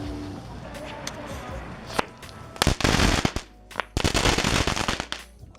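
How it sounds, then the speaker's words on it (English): Crackling ball fireworks from a California safe-and-sane consumer assortment burst into dense, sizzling crackle, starting with scattered pops then loud rapid volleys of sharp snaps in two main bursts, no talking. "Next up is some Crackling balls."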